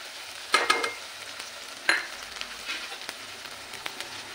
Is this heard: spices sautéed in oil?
yes